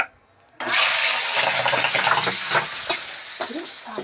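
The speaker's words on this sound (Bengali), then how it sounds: "এর মধ্যে আমি আলুগুলো দিয়ে দিচ্ছি" Potatoes go into oil tempered with bay leaf and cumin for a vegetarian aloo dum, bringing a sudden loud, steady frying sizzle that holds for several seconds after a short quiet start.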